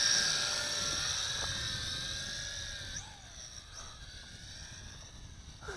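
Helic Max Sky Vampire quadcopter, a Tarantula X6 clone, hovering with altitude hold: a steady high-pitched buzzing whine of small rotors that shifts pitch slightly as it drifts, fairly close, with no talk.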